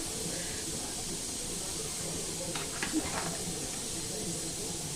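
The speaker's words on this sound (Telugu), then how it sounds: "చూడండి, చేపల కూర బాగా మసులుతుంది." Fish curry bubbling and simmering in a pot, a steady soft hiss of boiling with a few brief louder bubbles near the middle, heard close and alone.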